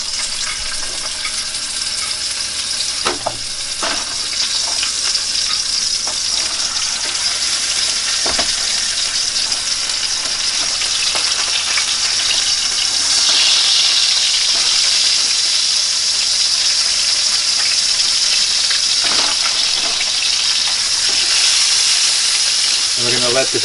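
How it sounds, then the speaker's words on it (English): Bacon fries in a hot pan with a steady, dense sizzle and hiss that holds throughout, punctuated by a few louder pops and crackles, while a voice talks briefly over it. "With the pan still frying, a little bit hot, we're going to go ahead and we're going to put in our bacon."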